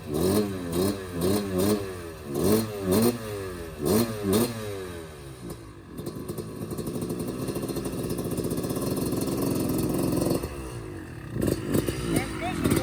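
A 1995 Kawasaki KX250 dirt bike engine revs in sharp repeated bursts, then settles into a steady, loud running drone close by. There is no talk.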